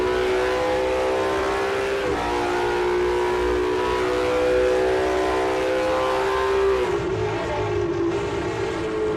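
Sim racing video game engines roar as race cars pass through the Porsche curves at Le Mans, with a sustained, loud engine drone that shifts pitch as the cars downshift and brake near the end.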